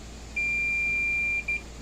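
Multimeter continuity beep while testing load bar wires on a cattle scale: a steady high electronic tone lasting about a second, then a brief second beep after a short gap, clear against a quiet background.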